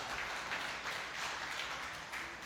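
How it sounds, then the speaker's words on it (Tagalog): A church congregation claps loudly for the Lord in a steady, dense wash of applause that carries on without a break. "Siya nga pong malakas na palakpak para sa ating Panginoon."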